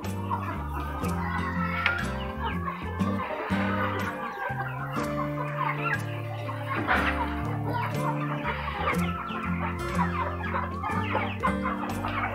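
Many chickens cluck and chatter continuously, close by, over a steady low hum.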